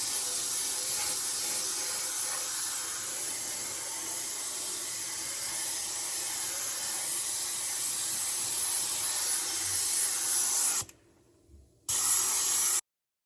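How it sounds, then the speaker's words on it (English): Airbrush spraying liquid mask onto a body, a steady close hiss that runs unbroken for about eleven seconds, cuts out briefly, then resumes in a short final burst. "So let's get to spraying on the body."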